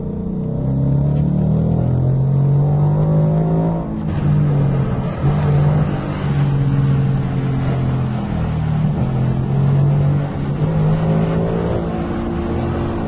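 A Ford Mustang GT's naturally aspirated engine, driven in manual mode, revs loud and close with a deep sustained roar that climbs through the gears, briefly dipping at shifts around four and ten seconds before pulling again.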